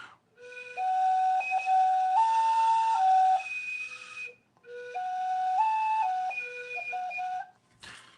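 A Mexican stone whistle played in two long phrases, a piercing, slightly breathy tone shifting between a few pitches, with a short pause between the phrases and no talking.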